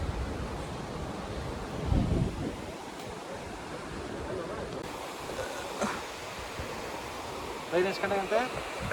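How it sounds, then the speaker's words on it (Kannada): Water from a waterfall below in the Sakleshpura hills rushes in a steady broadband roar that runs through the whole stretch, with some voices and a brief spoken moment near the end. "ಕೆಳಗಡೆ ಫಾಲ್ಸ್ ನೀರು ಹೋಗ್ತಾ ಇದೆ, ಸೌಂಡು ಬರ್ತಾಯಿದೆ"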